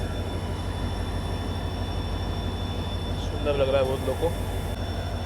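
WDP 4D diesel locomotive 40147 from Kalyan hauling the Tutari Express past on Indian rails, a steady loud rumble of wheels and engine filling the whole clip, with brief squealing tones midway and a person talking over it.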